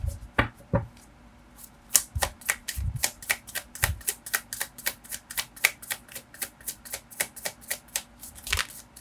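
Tarot cards riffled and flicked from the deck, a long steady train of quick crisp papery snaps with a few heavier taps early on, close and unbroken by speech.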